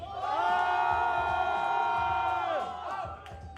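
A crowd at a freestyle rap battle night cheers and shouts loudly and continuously, a dense roar with whoops that fades slightly toward the end.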